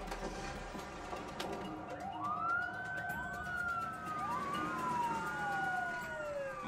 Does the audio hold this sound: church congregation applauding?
no